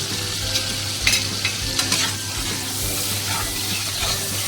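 Spice masala with ginger paste, salt and turmeric sautés in oil for a taro and tengra fish curry, giving a steady close sizzle with occasional stirring scrapes, no talking.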